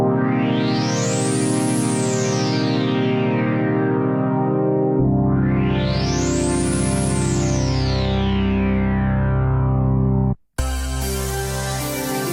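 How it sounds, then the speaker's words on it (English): Analog-style sweep pad on the Tone2 Warlock synth, sustained chords with a slow filter opening and closing in two long rising and falling sweeps, then a brief cut and a new chord, loud and alone. "Typical analog sweep. You can see here a big attack on the filter."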